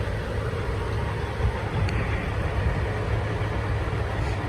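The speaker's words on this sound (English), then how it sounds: "Lots of traffic behind me." Rush hour traffic in downtown Toronto backs up behind a stopped 18-wheeler, a steady low rumble of idling engines close by, continuous and unbroken with no voices.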